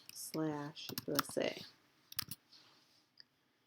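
Clicks and keyboard typing while laying out lettering in Adobe Illustrator, a few soft taps and clicks mixed in among spoken instructions and continuing lightly after the voice stops.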